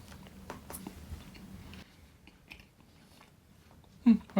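Someone bites into and chews a cheesy bacon ranch puff, giving soft crunchy mouth sounds up close, then a couple of sharper crisp bites at the end, with a brief voice earlier.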